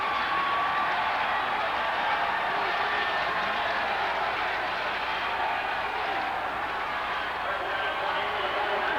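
A 1988 college football stadium crowd, Cal State Fullerton versus Long Beach, roars after a holding penalty, a steady distant wash of massed voices running throughout beneath an announcer's commentary.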